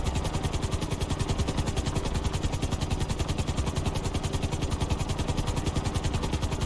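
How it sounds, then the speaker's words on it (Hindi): A helicopter in the video game GTA 5 drones continuously with a rapid, even rotor chop over a low engine rumble, steady and close throughout without speech. "नताशा जी बहुत अच्छी पायलट हैं और बहुत अच्छा हेलीकॉप्टर उड़ाती हैं।"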